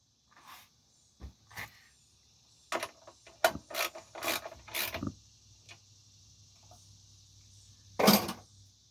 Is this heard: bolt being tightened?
yes